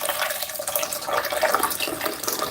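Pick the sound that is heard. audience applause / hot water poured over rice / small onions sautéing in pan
hot water poured over rice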